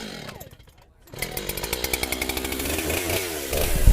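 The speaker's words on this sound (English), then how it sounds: "how the chainsaw cuts it" A chainsaw cutting into wood bursts in loudly after a brief lull, its engine snarling close with a rapid pulsing rhythm that builds in strength toward the end.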